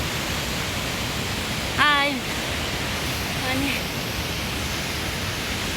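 A mountain stream rushes on the Langtang trek in Nepal, a steady broad hiss of flowing water throughout, with a brief voice calling out over it.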